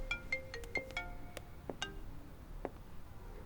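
A mobile phone rings with an incoming call in a drama scene, playing a short, quiet chiming melody of plucked bell-like notes in a still room, with no talking.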